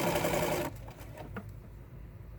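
Sewing machine running slowly over pins while making clothes, a steady close hum for the first moment that drops to quiet handling sounds and faint clicks.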